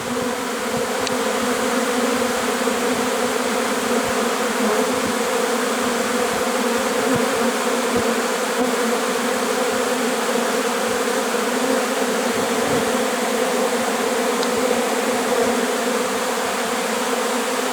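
A dense, steady buzz of many honeybees swarming close by as they settle into empty hive boxes, constant and loud throughout with no pauses.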